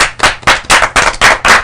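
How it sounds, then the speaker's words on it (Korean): Short bursts of loud, close hand clapping during a live Q&A session, about seven sharp claps in an even rhythm, with no talk over them. "박수."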